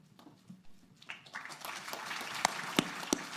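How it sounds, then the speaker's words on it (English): Scattered applause at a press conference, starting quietly and building into sparse clapping with a few sharp individual claps near the end. "Yeah, clap louder."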